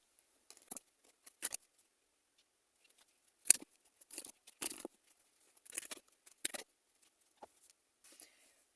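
Tarot cards are handled and shuffled in short, quiet bursts of riffling and flicking, separated by brief pauses.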